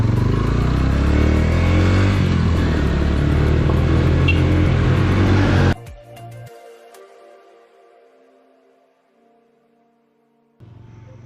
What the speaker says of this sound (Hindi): यहाँ से जाए, लेकिन वहाँ से मुश्किल चलेगी ये बाइक शायद